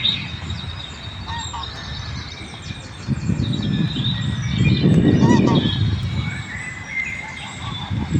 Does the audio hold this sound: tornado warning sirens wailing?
no